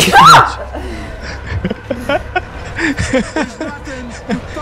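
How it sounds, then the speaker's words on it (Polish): A single loud, sudden sneeze bursts out up close, followed by chuckling, laughter and animated conversation. "Kurde, będę kichać."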